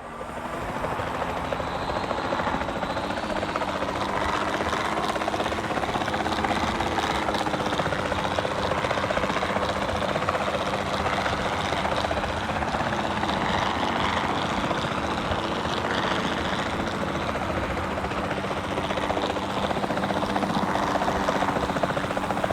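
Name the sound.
capture team helicopter flying in video game Jurassic World Evolution 2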